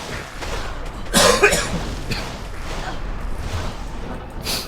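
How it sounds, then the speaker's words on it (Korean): A single sharp cough from a streamer playing Diablo II, close and loud, followed by quieter breathy throat sounds over faint game audio. "요즘 기침을 자주 해서 양해 부탁드려요"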